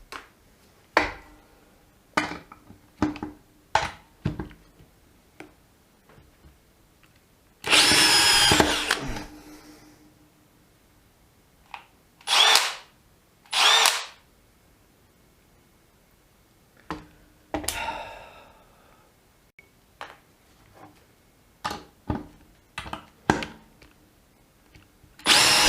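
DEWALT 12V brushless DCD701 and Milwaukee M12 FPD Gen2 cordless drills driving screws into wood, with short whirring bursts and a few longer runs among clicks and handling noise, close and loud.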